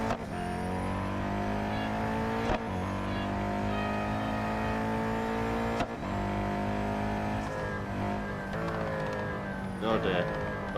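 Koenigsegg Agera R engine in the racing game Real Racing 3, a loud, continuous high-revving drone whose pitch climbs and drops sharply at gear shifts around two and six seconds in.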